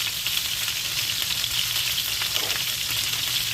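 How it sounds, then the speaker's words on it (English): Steak charring in a pan with large pats of melting butter, producing a dense, steady close-up sizzle and crackle with no talking. "while this is still charring on the one side, I'm putting 2 fairly large pats of butter"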